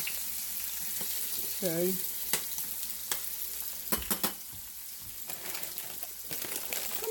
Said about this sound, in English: put my green beans on the front burner